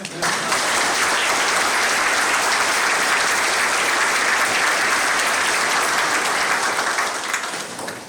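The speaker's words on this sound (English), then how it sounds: "Just a round of applause, please." An audience at a lieutenant general's retirement ceremony at the Citadel claps as a sustained, dense round of applause. The clapping is loud and even throughout and fades slightly at the end.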